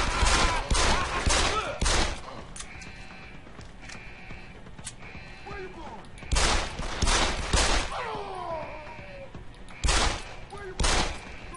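Gunfire from the video game Deus Ex: Human Revolution, with loud shots in irregular bursts amid mechanical clanks and game effects, and talk over it.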